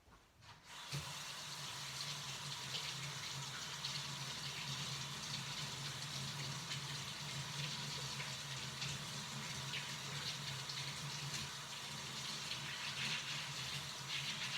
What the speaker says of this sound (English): I'm gonna throw this in some water really quick, or run some water over it